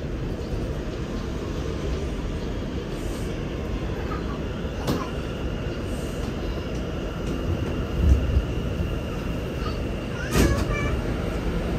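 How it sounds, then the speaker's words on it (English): An R211A subway train on the A express line toward 207th Street rumbles steadily at close range, a continuous broadband roar with a few brief clanks and squeals, heard from inside the car. "This is a 207th Street bound A express train."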